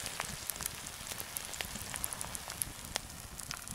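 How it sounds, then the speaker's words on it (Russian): Eggs frying on a red-hot shovel outdoors in the taiga, a soft continuous sizzle with scattered small crackles and pops, close and fairly quiet. "все жарится. Лопата раскалена."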